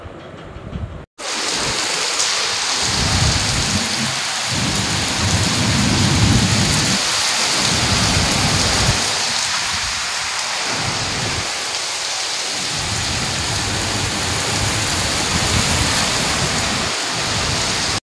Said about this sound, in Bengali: বাইরে প্রচণ্ড ঝড় বৃষ্টি শুরু হয়েছে।